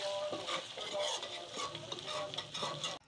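Chicken kadai, white restaurant-style, stirred and mixed in a hot pan, giving a steady close sizzle with scraping spoon strokes throughout, cutting off abruptly at the end.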